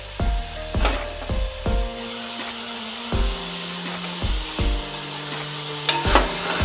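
Shallots and curry leaves fry in hot oil for a beef roast, a steady sizzle broken by repeated stirring scrapes and spoon knocks at irregular intervals, close and moderately loud with no talking.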